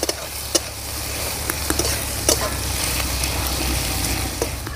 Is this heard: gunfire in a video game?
no